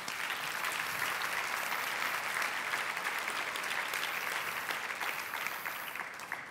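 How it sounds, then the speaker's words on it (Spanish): Steady, dense applause from a church congregation fills the space, loud and sustained from start to finish with no voices on top. "Puedes darle un aplauso al Señor."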